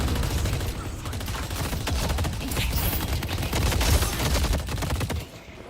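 Sustained rapid gunfire in the video game Deadlock, a dense continuous automatic burst that is loud and close, running for several seconds before cutting off abruptly.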